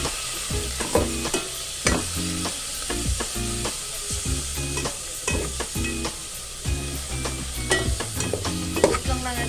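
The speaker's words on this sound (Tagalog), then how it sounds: "Prito lang natin siya hanggang sa pag golden brown." Food for bas-uy with sotanghon sizzles and crackles in hot oil while frying until golden brown, with repeated stirring and scraping clatter in an irregular rhythm, close by.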